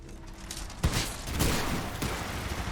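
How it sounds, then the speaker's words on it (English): Grenade launcher firing in the Titanfall 2 video game: a quiet, dull thunk hits at about a second, followed by lighter knocks, all within a continuous bed of broadband game noise. "we're going to judge the weapon by the noise it makes. It has a very kind of quiet thunk."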